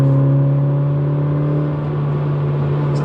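Engine of a 2020 Mini John Cooper Works DT Edition with auto rev matching, heard from inside as a loud, steady droning hum at held revs for a few seconds.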